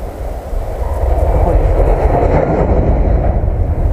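Loud, close rumble of a train rolling past on the Vyazma–Rzhev railway line in Russia, a continuous heavy roar with faint rhythmic rattling of wagons.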